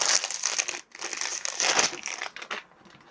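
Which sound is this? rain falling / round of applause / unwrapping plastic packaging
unwrapping plastic packaging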